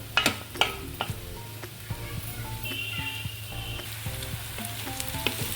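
Prawns added to fried onions in a pan, a strong close sizzle with spoon scrapes and clinks, steady and loud throughout.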